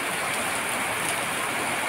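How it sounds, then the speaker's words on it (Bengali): Heavy rain pours steadily, a dense, unbroken hiss of water falling on surfaces nearby, with no gaps or voices across the short stretch. "বৃষ্টি খুব জোরে, বৃষ্টি নেমে গেছে"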